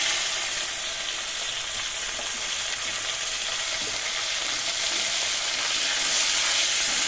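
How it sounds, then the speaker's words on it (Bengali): Drumstick (moringa) pods fry in hot oil with a steady, bright sizzling hiss that holds evenly throughout, close and fairly loud, with no voices. "এই তেলে ভেজে নেব সজনে ডাঁটা"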